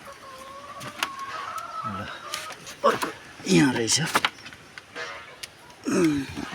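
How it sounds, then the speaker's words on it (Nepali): Backyard chickens clucking in short, fairly faint bursts near a coop, with a person talking close by in between. "यो चाहिँ हाम्रो कुखुराहरू हुन्।"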